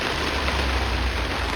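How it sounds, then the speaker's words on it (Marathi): Heavy rain falling steadily in a village during a monsoon downpour, a dense, even hiss with a low rumble underneath that continues without a break from start to finish. "पावसाचा आवाज येतोय का मित्रांनो"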